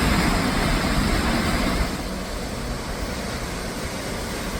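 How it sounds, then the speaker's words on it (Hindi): A loud rushing hiss of water spraying from the Maneri dam in Uttarakhand, dropping in level after a couple of seconds and then continuing as a steady, softer roar. "बौछार यहाँ तक आ रही है।"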